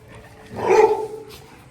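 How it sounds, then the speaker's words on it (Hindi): A German Shepherd mix dog gives a single close, loud bark or woof that swells and fades over about a second, alone with no talk. "एक जर्मन शेफर्ड मिक्स ब्रीड का डॉग है"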